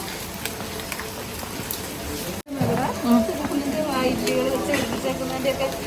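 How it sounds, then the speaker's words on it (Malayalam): Steady rain falls in Wayanad, a continuous hiss of drops on surfaces heard close around, with a brief cut partway through and people talking over it. "മഴയുടെ മഴയുടെ അറ്റ്മോസ്ഫിയറിൽ പൊള്ളി ആംബിയൻസ് ആണ്"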